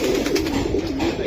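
Giribaz pigeons at a seller's loft coo in a low, close, wavering murmur that rises and falls over just over a second, with no talking.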